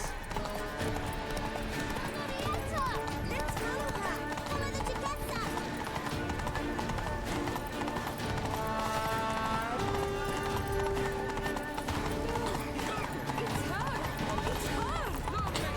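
Galloping hooves of Roach, a horse in the video game The Witcher, drum steadily beneath constant game music and ambient sound, with a rider's voice calling out over the ride.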